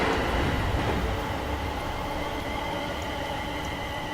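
A Class 390 train passes in Train Simulator 2019 on the Milton Keynes Central to London route, giving a steady, dense rumbling roar of rolling stock throughout, with no one talking.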